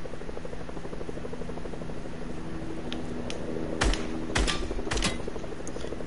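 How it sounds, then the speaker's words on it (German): Helicopter in the Fortnite video game, a steady rapid rotor chop running throughout, with several sharp clicks and thumps from gameplay over it and no talk. "Hubschrauber."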